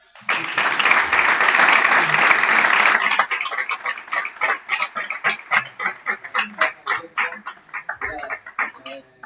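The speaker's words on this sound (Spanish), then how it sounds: "es un fuerte aplauso" An audience at the end of a talk bursts into strong applause, a dense loud clatter for about three seconds that breaks into separate rhythmic claps as it fades out.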